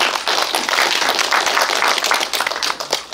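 An audience at a Korean film screening and talk gives a short burst of steady clapping, dense and continuous throughout.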